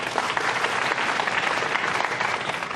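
Audience applause at a snooker semi-final of the 2016 China Championship, a dense, even clapping from the crowd sustained loudly throughout.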